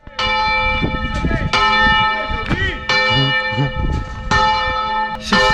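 Church bells ring at Lio Piccolo in the Venice lagoon, loud and close, striking in repeated clanging peals whose tones hang between strikes, with faint background sounds underneath.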